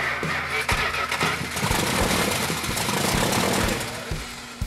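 The Hemi V8 engine of a Dodge Coronet R/T convertible with four-speed cranks and fires, its dense rumbling roar building quickly and holding loud and close before easing off near the end.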